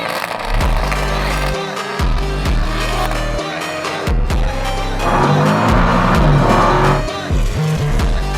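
A Koenigsegg Agera RST and a Porsche 911 Turbo S run a standing quarter mile, loud engines roaring and shifting close by, with bursts of tire squeal and voices in the background.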